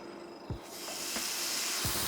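A loud, steady hiss of a cheap steak sizzling in a hot pan at medium heat swells up and keeps going, with a few soft low thumps underneath.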